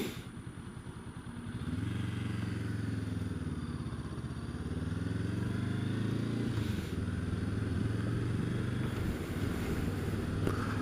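A motorbike riding along a road with a diversion in place, its engine droning steadily and rising in pitch after the first couple of seconds, with heavy wind buffeting throughout.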